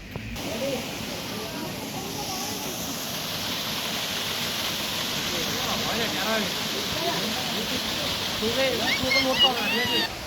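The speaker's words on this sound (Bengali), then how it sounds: "রক গার্ডেনের ঝর্ণা" Continuous roar of the waterfall at a Rock Garden dominates, with people chattering and calling in the background throughout.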